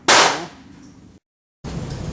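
A single loud 30/40 Krag rifle shot loaded with smokeless powder and a 220-grain full metal jacket bullet cracks sharply, then rings out in a decaying tail. After a brief gap comes a steady rumble of noise.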